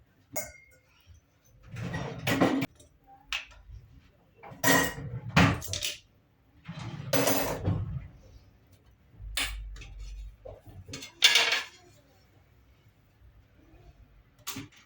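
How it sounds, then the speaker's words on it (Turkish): Clinks and clatters of dishes being set into a dishwasher rack, in irregular bursts with quiet gaps between them, fairly close by. "Bulaşık makinesindeki bulaşıklarımı dizeceğim."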